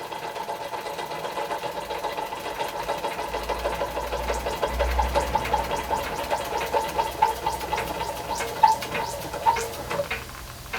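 A Doll & Co No. 56 1/2 model steam engine runs alone with a fast, even mechanical clatter and light ticking, with a steady low hum underneath and no voices.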